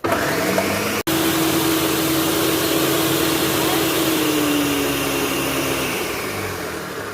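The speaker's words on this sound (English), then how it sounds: "we're going to go ahead and blend those guajillos" A kitchen blender runs loud and steady, whirring through fried guajillo chiles and a little water for birria. After a brief cut near the start, the motor drones on evenly and eases slightly toward the end.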